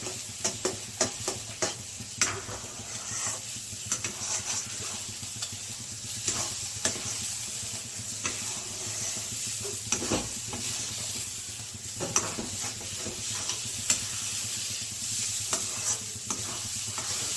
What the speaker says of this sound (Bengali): সুজি মানে সময় লাগে না, একটু যা ঘি দিয়ে একটু ভালো করে ভেজে নিলেই হয়ে গেল